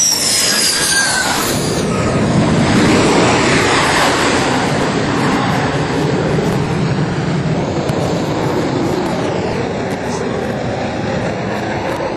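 A fixed-wing aircraft engine passes near the carrier USS John C. Stennis (CVN-74), a loud broadband roar that swells early and holds steady before easing off toward the end, with no talk over it.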